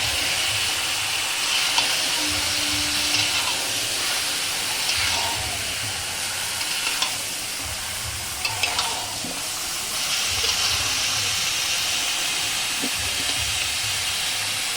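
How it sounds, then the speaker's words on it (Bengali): Chicken pieces go into a pot for chicken stew, followed by a steady, close sizzle and hiss of frying with faint stirring scrapes and small clinks, continuous throughout with no talking. "এবার আমি চিকেনটা দিয়ে দেবো"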